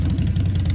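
A popular American motorcycle engine idles in a steady low, loping rumble, close and loud with no talk over it, played as a brief radio ad sound effect.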